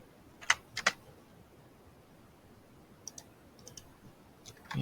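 A few sharp clicks in quick pairs, then a short burst of light keyboard and mouse taps, close up in a quiet room.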